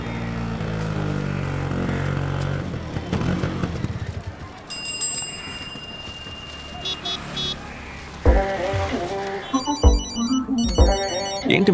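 A phone ringtone plays in bursts of bright electronic tones, with bell-like repeating notes later on, loud over background noise.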